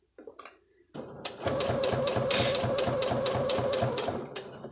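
A sewing machine runs in a steady rapid burst of stitches along a pocket welt tab, loud and close, after a brief quiet start with a few soft handling clicks.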